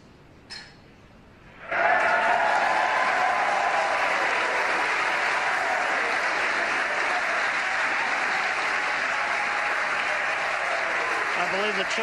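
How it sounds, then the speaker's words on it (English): A crowd at the SpaceX Crew-3 Falcon 9 launch breaks into loud, sustained applause and cheering that swells after a short quiet opening and continues steadily to the end. "Cheering in the background"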